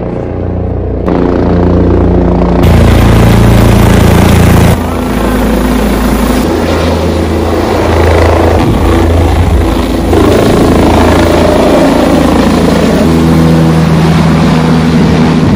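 Helicopter engine and rotor roaring up close during takeoff and flight, a loud steady drone with rumbling low thump that persists throughout, briefly surging louder early on.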